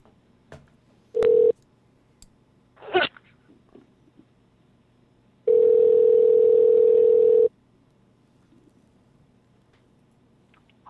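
A telephone line to call Eddie gives two bursts of steady dial tone, a short one and then a longer two-second one, with faint clicks and rustling between them and quiet around them.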